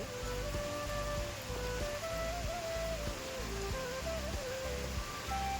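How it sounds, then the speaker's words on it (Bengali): Rain pours steadily in a continuous broadband hiss, heard alongside music with a clear melody and rhythmic beat playing throughout at a constant level. "তো গাইজ এখন বৃষ্টি হচ্ছে, ঠিক আছে, এখনই শুরু হলো জাস্ট বৃষ্টিটা।"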